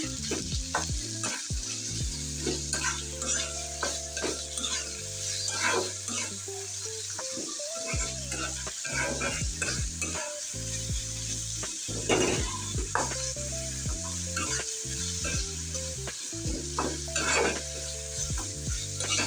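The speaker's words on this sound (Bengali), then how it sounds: "পেস্টটা দিয়ে আমি ভালো করে তেলের সাথে ভেজে নেবো পেস্টটা" Spice paste fries in oil with onion and green chili, a continuous close sizzle marked by frequent scraping stirs and spatula knocks against the pan, without any talking.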